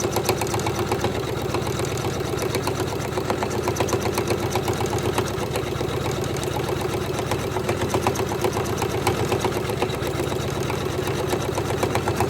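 A Janome 500e embroidery machine stitches a design onto a hat, making a steady, rapid mechanical whirring and needle-tapping that runs continuously and evenly at close range.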